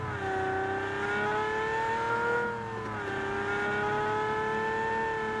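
Car engine in a Spanish crime-and-robbery video game, a steady sustained drone with several layered tones that rise gently, dip around the middle and climb again, loud and continuous with no talking.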